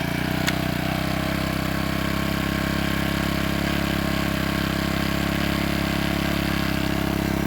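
A small engine sits at idle to warm up, a steady, close drone with an even low hum and a constant mechanical buzz that holds unchanged throughout, apart from a faint click near the start.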